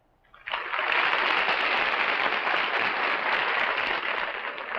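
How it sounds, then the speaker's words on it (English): A studio audience at a 1958 daytime television show breaks into applause, rising suddenly and holding as a dense, steady wash of clapping until the end. "Your applause for candidate number 1."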